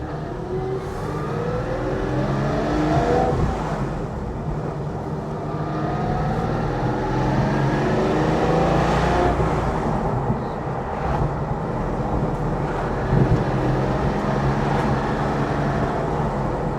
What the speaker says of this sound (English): here's the obligatory cold start